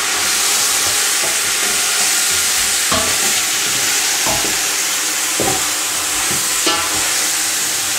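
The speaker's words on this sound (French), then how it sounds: "Vous allez bien mélanger." Meat dusted with a sachet of couscous spices is stirred in a pot over steady sizzling, with a few sharp scrapes and knocks of the spoon against the pot, continuous and close.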